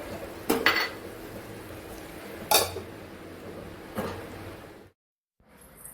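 A spoon stirring tomatoes in a metal cooking pot while making a mango and meat curry, giving three distinct scraping clanks against the pot amid a low kitchen background, then a brief silence.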